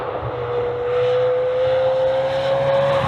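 A Lamborghini fitted with a Novitec sports exhaust drives past, its engine a loud, sustained steady drone with a rising whine that holds and swells slightly, heard close with no talking.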